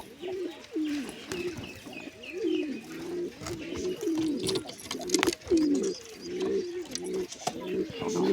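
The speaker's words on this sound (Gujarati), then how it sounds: "આ સિંગલ કબૂતર જ છે મિત્રો" Pigeons cooing close by in a repeated rhythmic series of low throaty coos, with faint chirps and a murmur of voices in the background.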